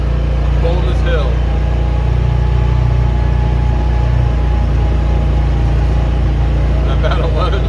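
A 2021 John Deere HPX615E Gator climbs a hill in low gear, its engine a steady, loud low drone with a constant rumble throughout.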